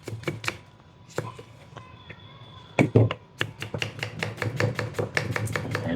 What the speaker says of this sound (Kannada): ಫಸ್ಟ್ ಈರುಳ್ಳಿ ಕಟ್ ಮಾಡ್ಕೋಬೇಕಲ್ಲ ಸರ್?